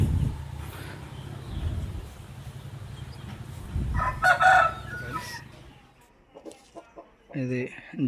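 A farm rooster crows loudly and nearby, with a shorter crow near the end and low clucks and farmyard murmur between, as someone talks faintly in the background.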